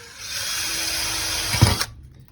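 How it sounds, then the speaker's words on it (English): A power drill with a 1/8 inch bit whines steadily at high speed for under two seconds while installing a storm door, ending with a brief thud as it punches through, then stops. "We're taking an 1/8 inch drill bit."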